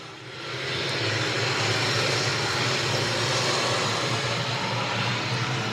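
Street stock race cars roar around Needmore Speedway in Moultrie during a feature race, a loud, steady wall of engine noise that swells in after the first half second and holds without letup.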